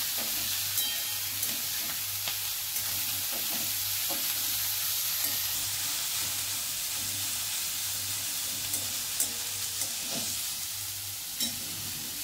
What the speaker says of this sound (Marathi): तेल चांगलं तापल्याच्या नंतर आपल्याला मेथी टाकायची आहे.